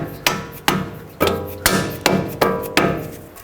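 Bolts are hammered through a Chrysler Sebring steering knuckle during a passenger-side CV axle replacement, about eight sharp, ringing metal blows in a steady rhythm, close and loud with nobody speaking.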